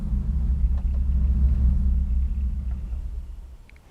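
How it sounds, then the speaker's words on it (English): The thunderstorm effect on the Temple Theatre organ, played from the pedals, sounds as a deep, close rumble that swells for a few seconds and then slowly fades. "One of them is the thunderstorm."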